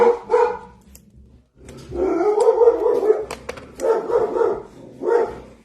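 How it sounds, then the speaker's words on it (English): A pet dog barks repeatedly indoors, loud and close, in several short bursts separated by brief pauses, with a rough growly edge to some of the barks. "I apologize for my dog."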